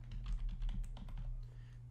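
Typing on a computer keyboard, a quick close run of light key clicks over a low steady hum, with no talking.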